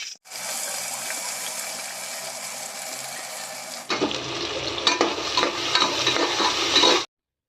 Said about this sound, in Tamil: சின்ன வெங்காயத்தை நல்லா வதக்கிக்கலாம்.